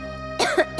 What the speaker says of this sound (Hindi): रात से ही बहुत खांसी हो रही है।